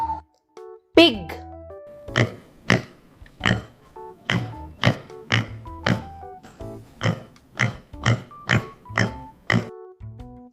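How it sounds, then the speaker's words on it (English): A pig oinks and grunts in a steady series of about a dozen short, punchy calls at close range, each separated by brief pauses, presented alone as part of a sequence of farm and wild animal sounds. "pig"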